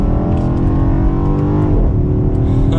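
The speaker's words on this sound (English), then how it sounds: "let's go ahead and downshift to second gear. We are going to come around a turn here and then give it a little bit of gas" 2021 BMW X6 M Competition SUV pulling hard in second gear, a loud, close engine roar with rising revs through a short burst of acceleration.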